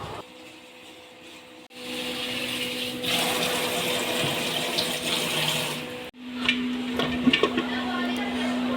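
Running water and splashing as 2.5 kilograms of rice are washed in a pot before soaking, a steady tap-like wash with a steady hum beneath and a brief pause near the middle, no talking.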